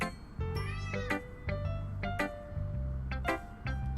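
A cat meows repeatedly in short, clear calls with a few longer, drawn-out ones, close and fairly quiet with no talking.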